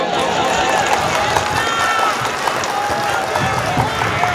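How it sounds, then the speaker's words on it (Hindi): Sustained audience applause at an All India Mushaira in Lawar, a dense steady wash of many hands clapping with crowd noise, fairly loud and continuous throughout. "एक बार जोरदार ताली से इजाजत दीजिएगा।"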